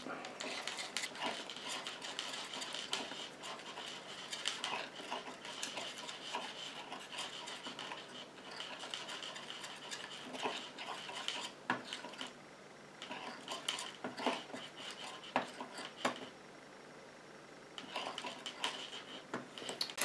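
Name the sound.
stirring oil into a homemade lip gloss mixture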